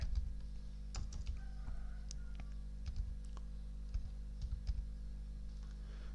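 Quiet keyboard typing on a computer while entering text in Excel, a scattered run of soft key clicks over a steady low hum.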